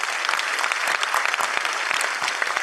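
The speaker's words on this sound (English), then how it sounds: "So I think we need to give him first a big round of applause." Dense, sustained applause from a large audience in an auditorium at a college launch event, many hands clapping loudly and evenly throughout with no pause.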